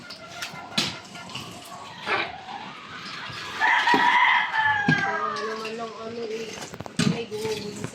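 Chickens cluck and squawk in a noisy flock, with a rooster crowing in the middle; a person speaks briefly over the commotion.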